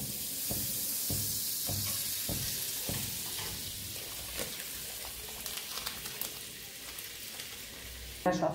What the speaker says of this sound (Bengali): এটা শুধু তেলেও ভাজা যায়, আমি এখানে একটু মাখন দেব